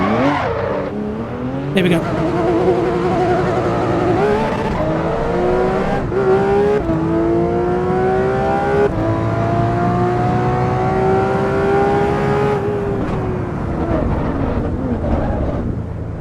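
A road car on road tyres in the Assetto Corsa Evo racing game, its engine droning loudly and steadily with pitch climbing and falling through gear changes and some tyre squeal, while someone speaks briefly over it.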